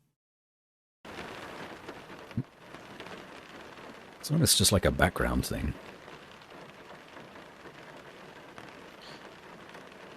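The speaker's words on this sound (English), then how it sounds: "we could probably just keep the rain going constantly" A steady rain sound effect hisses quietly in the background while someone talks over it, with a louder burst of rumbling noise partway through.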